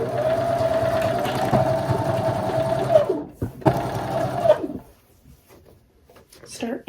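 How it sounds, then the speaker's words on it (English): Sewing machine running a steady straight seam on denim jeans during an alteration, a continuous close whirring hum for several seconds that stops, restarts briefly, then falls quiet with faint handling noise. "Just going to fit it right in there and start sewing a straight line."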